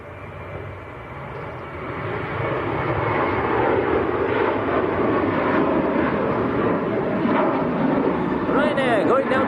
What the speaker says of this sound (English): Ryanair going down to Madeira